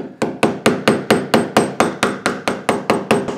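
A steel scraper blade cut from an old hand saw is tapped down into a vise, giving fourteen sharp, evenly spaced metallic knocks at a steady rhythm, close and loud, with no voices.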